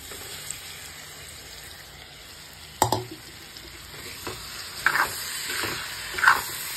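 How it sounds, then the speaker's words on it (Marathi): Spiced soybean masala being poured by hand into a vegetable curry: a soft sizzle and bubbling with a few sharper knocks and splashes, near and moderately loud, with no talking. "हे आपण भाजीत ओतून घेऊ"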